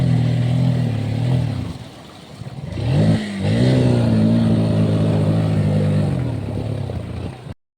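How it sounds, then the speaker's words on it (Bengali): A motorcycle engine revs hard and steadily as the bike pushes through floodwater on a village road, its silencer flooded after stalling. The tone dips briefly midway, then climbs and holds until it cuts off. "সাইলেন্সারে পানি ঢোকে যাওয়ার পরে গাড়ি স্টার্ট নিচ্ছিল না এবং গাড়ি আগাচ্ছিল না তো ফাইনালি গাড়িটা এগিয়ে গেল"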